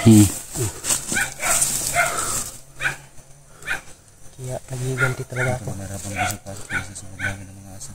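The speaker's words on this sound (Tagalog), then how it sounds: "May mga aso silang mga bantay." Guard dogs in a video game bark and yip repeatedly in the background while someone talks over them throughout.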